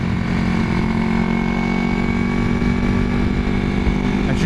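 A 1981 Yamaha XS400 engine runs rich, giving a loud, steady, close rumble with faint irregular pops mixed into the drone throughout.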